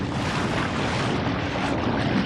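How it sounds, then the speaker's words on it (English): A Sea Eagle RazorLite kayak with a Bixpy skeg motor runs at full speed into a roughly 12 mph headwind and choppy waves, producing a loud, steady roar of wind buffeting and water rush with no breaks. "at full speed into about a 12 mile an hour headwind with some pretty good waves"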